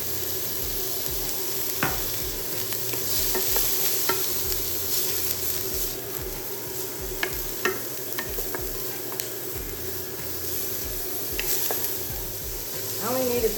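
Carrots fry in oil in a pan for crab fried rice with shrimp, giving a steady close sizzle broken by repeated sharp scrapes and taps as the pan is stirred.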